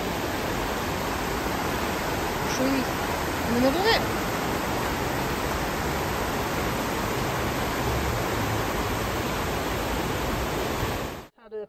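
Fast-running river water by a pub stopover in Matlock, Derbyshire, with riverworks nearby, makes a steady, broad rushing roar that fills the whole stretch without a break, while a voice speaks briefly over it.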